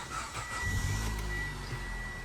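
A budget manual-transmission car engine cranks and catches close by, settling into a loud, steady low rumble of running with no talk over it.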